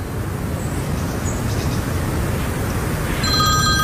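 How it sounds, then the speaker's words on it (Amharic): A telephone rings with a bright electronic trill entering near the end, over a steady low rumble of background noise; no one speaks. "ስልክ እየጠራ ነው።"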